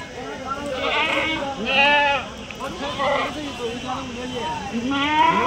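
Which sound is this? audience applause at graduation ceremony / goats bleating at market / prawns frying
goats bleating at market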